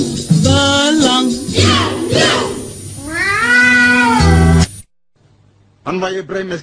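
A voice imitates a cat in a comedic song, producing several long, loud, wailing meows in a row, then a brief silence before another drawn-out call.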